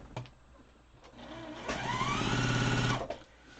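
A sewing machine stitches quilt pieces together, whirring up in pitch for a run of just over a second between a few light clicks and handling thumps, close and fairly quiet.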